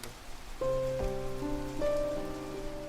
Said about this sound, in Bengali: প্রবল বর্ষণ শুরু হলো এই সময় ঝমঝম করে বৃষ্টি